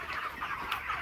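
Broiler chickens in a poultry shed cluck and chatter in a close, busy cluster of short overlapping calls, moderately loud and without talk.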